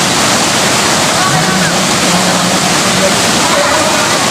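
Malatop waterfall in Labo, Camarines Norte roaring continuously, a loud, dense rush of falling water close by, with a voice faintly heard beneath it.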